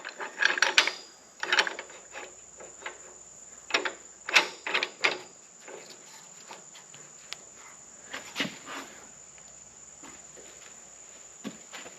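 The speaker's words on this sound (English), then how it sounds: "I'll slide this clamp over too and get all the clamping force going on here." A metal clamp slid along steel frame tubing and tightened during frame fabrication, giving scattered sharp clicks and ratcheting scrapes in short bursts, close and fairly quiet against a faint steady whine.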